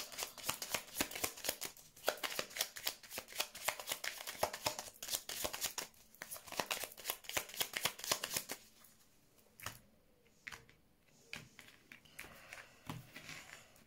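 A deck of cards is shuffled repeatedly for a card-reading draw, rapid riffling bursts close and clear for about eight seconds, then scattered softer taps and card handling.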